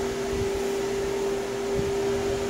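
A Terra Bloom 8-inch fan runs with a steady, even hum and a constant tonal whine, close and unchanging over a soft airy rush.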